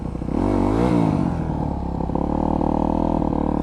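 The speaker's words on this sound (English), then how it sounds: "I'm just spinning the wheel." A motorcycle's rear wheel spins up during wheelie practice, a loud close engine rev that rises and dips, then settles into a steady rough drone with some clatter.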